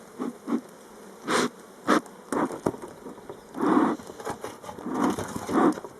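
Honeybees from a large spring colony spread across eight or nine frames, buzzing in the open hive in uneven surges, some short bursts and some longer swells, up close against a low background hum.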